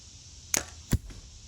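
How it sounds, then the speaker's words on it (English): Two sharp wooden cracks as arrows strike an archery target, the second a duller knock as one arrow hits another already lodged there, close and isolated with a brief rattle after. "that sounded like it hit the other arrow"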